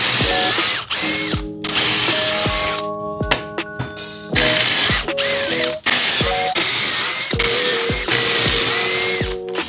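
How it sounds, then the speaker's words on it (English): Pocket holes drilled with a Kreg jig in lumber for garage shelving: a loud power drill whines in repeated bursts of several seconds, with short gaps and ratcheting clicks between them. "Next is pocket holes with my Craig jig."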